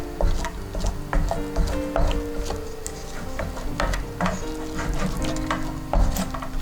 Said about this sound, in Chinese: 现在开小火， 一直不断搅拌